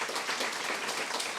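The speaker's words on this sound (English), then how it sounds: "Can we give you both a big round of applause?" A brief burst of dense audience applause at a Toronto event marking a year of mental health crisis response, loud and even, with no voices above it.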